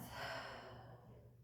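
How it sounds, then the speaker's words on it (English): A slow breath in through the nose and out through the mouth during a meridian-balancing stretch, close and soft, a single airy exhale that fades gradually over a low steady hum. "Breathing in through the nose, out from the mouth."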